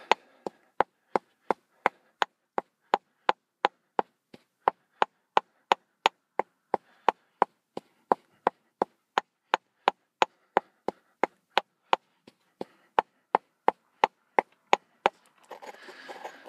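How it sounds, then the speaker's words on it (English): Amaranth grain sealed in a bag is pounded with a pestle in a mortar, giving a long run of sharp, evenly spaced woody knocks at roughly two per second. Close and clear, with faint rustling near the end. "Some of that noise is the amaranth inside the bag."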